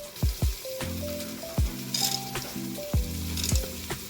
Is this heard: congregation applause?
no